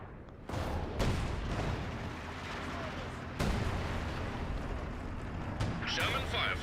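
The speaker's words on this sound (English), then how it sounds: "I can hit them with a mortar barrage though, so I'll try and hit this tank for you." Mortar barrage in Company of Heroes 2 fires in a series of heavy, booming blasts, with sharp onsets near 0.5, 1 and 3.4 seconds over a continuous rumble of battle; a voice talks over part of it.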